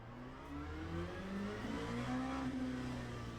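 An LMP2 prototype race car in the Le Mans Ultimate racing game revs up, its engine whine rising steadily in pitch as it accelerates, fairly quiet and alone.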